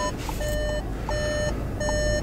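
Reverse-gear parking beeps from a Volkswagen Jetta 1.4 TSI Launch Edition: bright electronic tones repeating in short regular bursts, close and clear over a faint background hum.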